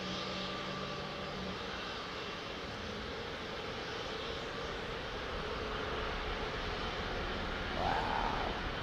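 A GE-powered heavy jet airliner at Heathrow runway 09R, heard as a continuous, broad engine roar that stays steady and loud throughout, close by, with no talking.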